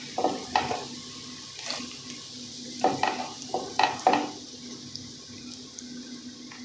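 Garlic, onion and dried chili fry in oil for okra bhaji, a soft sizzle broken by several sharp stirring scrapes and clatters in irregular bursts, close and without talk.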